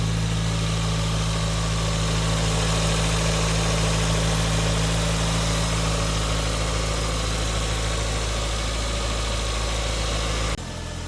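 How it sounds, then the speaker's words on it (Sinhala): A 1996 Toyota Glanza V with its original 4E-FTE turbo engine idles steadily, a constant close hum with strong low-frequency drone and even vibration, cutting off abruptly near the end. "ඉතින් බලන්න එන්ජින් සවුන්ඩ් එක."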